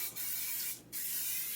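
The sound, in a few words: cooking oil spray sprayed into pan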